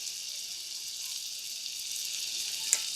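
Lemon juice hitting browning butter in a pan for shrimp scampi, giving a steady bright sizzle that holds evenly throughout, with one small sharp pop near the end and no voices.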